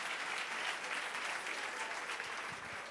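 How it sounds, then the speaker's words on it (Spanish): A church congregation bursts into steady, dense applause during a Spanish-language sermon, the clapping sustained and fairly loud throughout, with no talk over it. "Denle un aplauso al rey."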